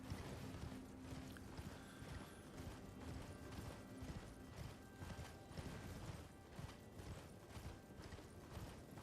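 Horse hooves clip-clop steadily across ground in Elden Ring, a continuous rhythmic trot under a busy game soundscape of ambient noise and tones, with no talking.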